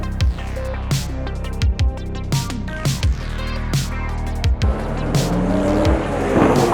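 A race car on the main straight of Sydney Motorsport Park, a loud close engine wailing and climbing through the gears with sharp repeated upshift cuts, then a rougher, noisier stretch toward the end.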